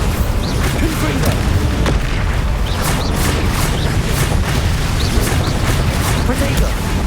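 Confringo spell blasts in the Hogwarts Legacy video game, a barrage of repeated booming explosions and sharp bursts in quick succession over a continuous loud combat din, with a voice talking through it.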